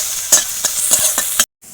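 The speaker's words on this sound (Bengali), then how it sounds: "পেঁয়াজটা একটু হালকা করে ভেজে নিচ্ছি" Onions fry in oil in a pan while a spatula stirs them, giving a steady sizzle broken by several sharp scraping strokes at an uneven rhythm, with no talk.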